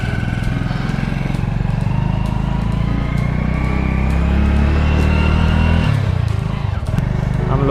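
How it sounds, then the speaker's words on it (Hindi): A motorbike engine runs steadily throughout while being ridden, a loud, continuous low drone with a slight change in pitch near the end, close up and with no talk over it. "बस मन यही कर रहा था बाइक पे चले"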